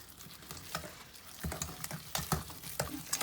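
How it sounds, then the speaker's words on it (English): A spoon stirs salt dough round and round in a bowl, giving close, soft scraping and wet squelching strokes in an uneven rhythm with no talking. "So go around and round and mix it all around"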